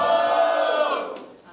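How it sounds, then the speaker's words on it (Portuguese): A crowd at a Brazilian freestyle rap battle in Londrina roars in a loud sustained cheer that fades away over about a second and a half, with no talk over it. "Barulho para as rimas do Lauro!"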